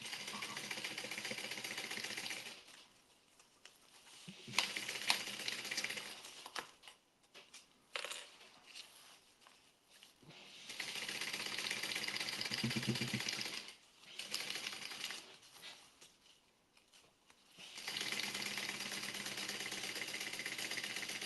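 A sewing machine bastes the top of a convertible duffle bag to its lining, running in several long stitching stretches with quieter pauses and handling sounds between them, fairly faint overall.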